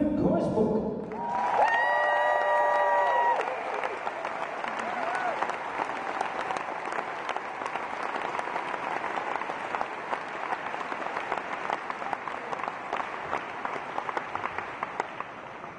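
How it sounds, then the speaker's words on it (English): A concert audience in Essen applauds a performer being introduced, with sustained clapping filling the hall for over ten seconds while an announcer speaks briefly at the start. "Please give him a warm Essen round of applause."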